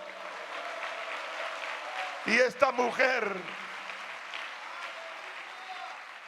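Congregation applause in a church breaks out briefly after a preacher's call to honor God, a short burst of clapping over a steady crowd hum, with a voice speaking in Spanish before and after.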